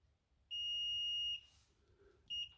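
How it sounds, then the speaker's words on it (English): Fluke 17B+ digital multimeter continuity beeper sounding a clear high-pitched tone, one longer beep followed by a short second beep, alone in quiet surroundings. "So you can have the beeper."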